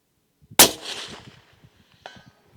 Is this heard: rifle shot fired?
yes